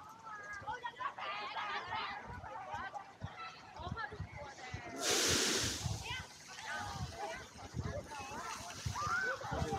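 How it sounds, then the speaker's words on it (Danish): A fountain in Denmark suddenly bursts into a loud rushing splash partway through, gushing for a moment and then subsiding, while several people keep chatting nearby. "Nu kaster det vand lige pludselig."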